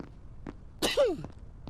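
A character in the video game Quarantine Zone sneezes once, a short sharp burst followed by a falling tail, heard clearly over faint game background.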